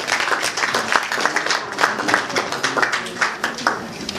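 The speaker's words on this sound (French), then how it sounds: "On l'applaudit bien fort." Guests at a formal dinner applaud steadily for a few seconds as a woman is invited up, with dense overlapping claps throughout.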